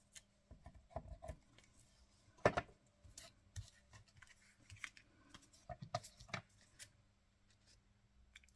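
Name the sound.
scissors cutting lace off the cord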